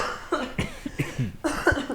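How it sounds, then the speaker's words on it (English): Several short, harsh coughs close by, coming in quick uneven bursts separated by brief pauses. "I have a tickle. I need to cough out."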